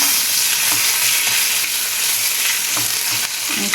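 Dried red chillies and curry leaves sizzle steadily in hot oil for sambar, a loud, close, unbroken crackling hiss with occasional soft stirring knocks underneath.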